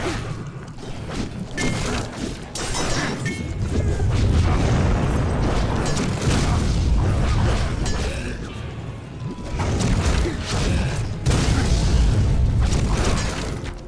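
Loud, repeated booming blasts and crashes of explosions in a Lord of the Rings PS2 game, heavy and continuous with a few brief lulls, dominating the whole stretch.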